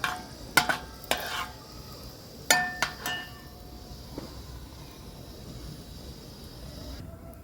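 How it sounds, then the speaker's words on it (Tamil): Onion seeds frying in hot oil in a pan for brown rice porridge, with a few sharp metal clinks and scrapes of a spoon stirring early on, then a soft steady sizzle. "இது கொஞ்சம் நல்லா ஃப்ரை ஆகட்டும். நம்ம மிக்ஸ் பண்ணலாம்."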